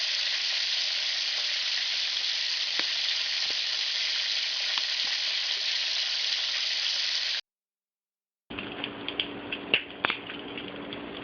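Fish frying in a pan for Jamaican escovitch fish sizzles steadily and loudly, with a few soft clicks, then a brief silence before the frying resumes with some sharper crackles and stirring.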